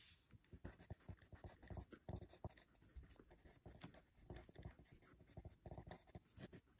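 Pen or pencil scratching on paper while a calculus justification about inflection points is written out, a steady run of close, quiet strokes and taps with no talk.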